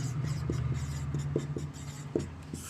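Notes being written by hand during a chemistry lesson on laboratory measurement: steady soft scratching with a few sharper strokes, faint and close, over a low constant hum, with no talking.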